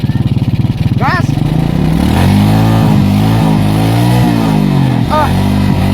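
A motorcycle engine revs hard as the rider gives it gas, loud and close, with rapid chugging at idle that rises into a sustained roaring rev, while people talk over it.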